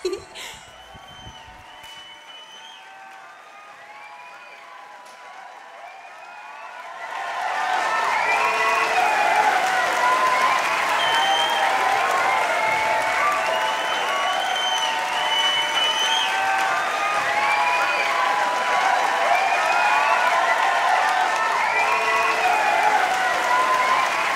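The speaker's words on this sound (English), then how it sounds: "And just listen to that applause." A theatre audience breaks into loud, sustained applause at a stage production of Singin' in the Rain, starting after several quiet seconds and holding a dense, even roar of clapping with a few cheers until the end.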